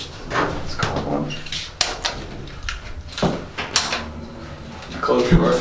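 A door closes amid talk, with several sharp knocks and thuds scattered through the clip, the loudest near the end, as voices carry on around them.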